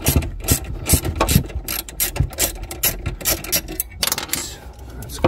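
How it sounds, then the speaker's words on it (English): A hand ratchet fitted with a 10 mm socket clicks rapidly and loudly close by as it backs off a nut near a Mercedes C-Class auxiliary battery, in repeated bursts of sharp pawl ticks. "It's a 10 mil socket, take it off."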